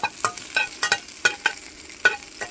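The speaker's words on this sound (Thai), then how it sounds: "นี่ก็จะทำข้าวผัด" Mackerel fried rice is stir-fried in a hot pan, with a steady sizzle under rapid, close scraping and clacking strokes of a spatula and no voices.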